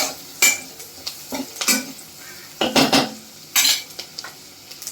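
Onion and turmeric fry in oil while a spoon repeatedly scrapes and knocks against the pan, giving irregular clanks over a light sizzle.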